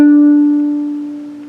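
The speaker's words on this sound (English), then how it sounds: "For reference, maybe if you play piano, this is the D right above middle C." A single piano note, the D just above middle C, struck once and left to ring, fading steadily over about a second and a half with no other sounds around it.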